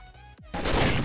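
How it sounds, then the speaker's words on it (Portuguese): A single loud gunshot in the video game Combat Arms bursts in after a brief lull of game tones and rings out through the rest of the moment. "O seu tiro passou do lado da minha cara"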